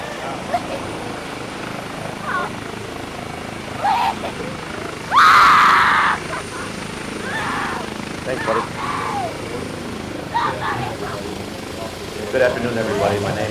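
A medical helicopter lands at a staged crash scene during a mock DWI drill, its rotor noise coming through moderately under steady talk, with one louder burst partway through.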